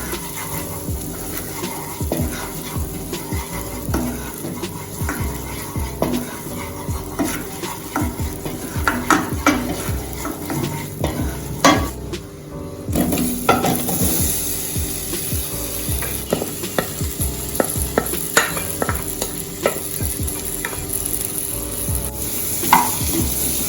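Curry powder and seasoning sautéed with potatoes in a pan: a loud, continuous sizzle under constant stirring, with busy scraping and knocking of a utensil against the pan throughout, close up.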